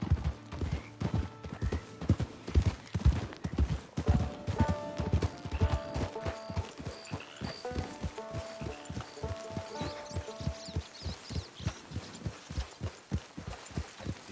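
Steady clip-clop of horse hooves from Red Dead Redemption 2, a loud, regular trotting rhythm running throughout, with a brief whinny-like tone and faint game music layered underneath.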